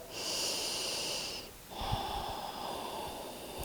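A slow, deep breath taken while folding forward in a yoga stretch, an airy inhale then a steady exhale, close and soft with a brief pause between, no talking.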